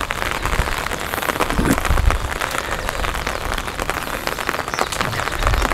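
Heavy rain pours steadily onto a rooftop garden of potted plants, a dense, continuous hiss of drops hitting surfaces with no break over several seconds.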